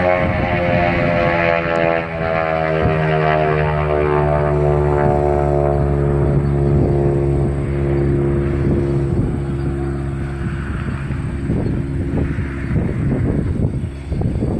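A propeller aircraft flies at an air show in Union City, Tennessee, its engine drone loud and close with strong harmonic tones that shift in pitch as it passes, and wind buffeting throughout.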